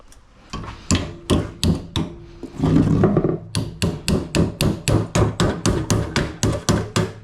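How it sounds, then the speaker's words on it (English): Sharp, loud hammer blows strike metal in steady repeated rhythm, about two per second, bending a part during a CJ7 Jeep restoration, broken by a brief rumbling scrape midway. "Then we'll be able to beat on it with a hammer and get it right where we want it."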